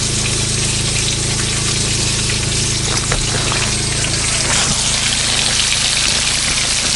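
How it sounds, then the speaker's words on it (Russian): Fish fries in a pan during a winter outing in Yakutia, giving a steady, dense sizzling hiss that stays even and close throughout, with no talking. "Скворчит."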